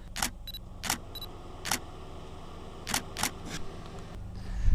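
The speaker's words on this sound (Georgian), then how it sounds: "გადავიღე ესე იგი რამდენიმე ფოტო აქედან უკვე ქვემოდან ზემოთ." Camera shutter clicks while photographing a car outdoors, about seven sharp separate snaps, some in quick pairs, with a couple of faint electronic beeps and a low rumble near the end.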